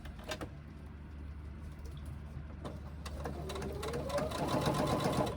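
Sewing machine stitching across a fabric sling, a steady close mechanical whir that continues throughout and grows slightly louder and busier toward the end.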